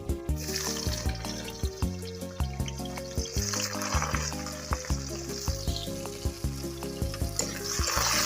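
Chopped onions fry in hot oil with a continuous hissing sizzle, heard throughout beneath rhythmic background music.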